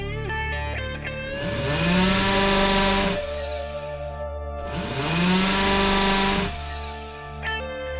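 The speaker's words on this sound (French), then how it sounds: "on découpe la tôle et les soudures au burin" A chisel tool cuts through rusty Citroën 2CV sheet metal and welds in two long bursts, each a loud, rising mechanical whine with a rough rattling edge, separated by a short pause, with no talking.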